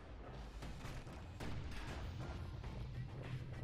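Guns fire at a security skiff in the video game Bastion: quiet booming, crackling bursts over a steady wash of game noise, with a slightly heavier blast about halfway through.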